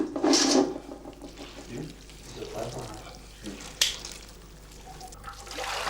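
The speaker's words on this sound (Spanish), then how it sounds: "Con una presión de las manos en la cera caliente se extrae, diluida con el agua, la miel que todavía queda" Hands squeezing hot beeswax combs in water to extract the remaining honey, with wet squelching and splashy sloshes, a brief loud splash at the start and a sharp click midway, close by.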